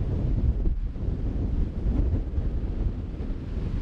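Strong storm wind in a forest, a continuous loud roaring buffet with gusty swells and heavy low rumble from wind striking the microphone, no voices.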